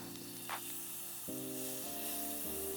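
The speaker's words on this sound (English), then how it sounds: "I'm gonna be adding 2 tablespoons of butter to a pot" Butter sizzles in a pot, a quiet, steady hiss running the whole time with a faint crackle early on, while soft background music plays under it.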